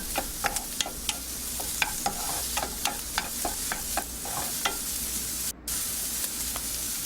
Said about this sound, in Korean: 다진 마늘 한 큰술을 넣어서 먼저 볶아주겠습니다.